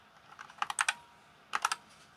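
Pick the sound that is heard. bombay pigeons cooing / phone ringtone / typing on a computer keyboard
typing on a computer keyboard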